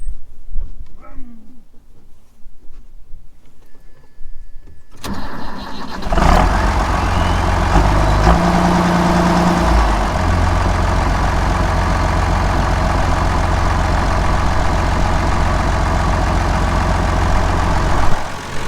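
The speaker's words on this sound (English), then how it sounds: "Right, you get to hear the engine." An old farm tractor engine cranks and catches after a few quiet seconds, then settles into a loud, steady, low rumbling idle that carries on without a break.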